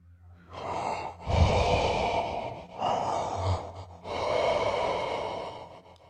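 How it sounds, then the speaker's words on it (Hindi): Heavy, close breathing used as a horror-story sound effect: three long, loud breaths, each a rasping inhale or exhale with short pauses between, with no other sound. "जब वो शावर ले रही थी तब उसे किसी की सांस लेने की आवाज आई।"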